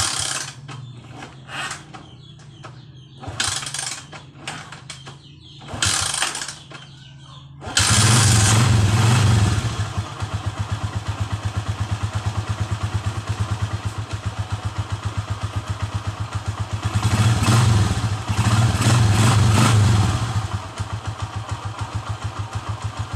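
A battery-less motorcycle, tested for whether it runs on its charging system, rattles through several attempts in the first seconds, then catches and settles into a steady, loud idle that rises briefly in revs twice.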